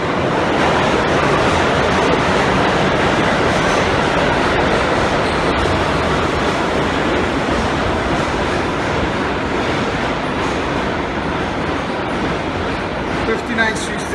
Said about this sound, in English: My train's here